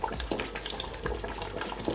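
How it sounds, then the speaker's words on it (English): Water poured into a pot of Nigerian ofe nsala soup on the stove, a soft continuous splash and trickle of liquid lasting about two seconds, close and moderately quiet with no talk. "I'll just add a tiny bit of water"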